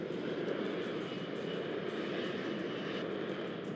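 A helicopter in the Roblox War Tycoon game drones continuously at close range with a steady engine roar and faint rhythmic rotor pulsing.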